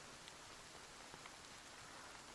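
Steady rainfall in Project Zomboid, a dense even hiss of rain on surfaces with occasional drop taps, faint and continuous with no talk.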